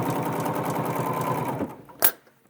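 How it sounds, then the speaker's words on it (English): A Bernina 710 sewing machine stitching quilt binding runs in a steady fast hum with rhythmic needle pulses, stopping abruptly, followed by a single sharp click. "now I'll just sew down this other side."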